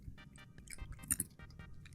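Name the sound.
cat crunching treats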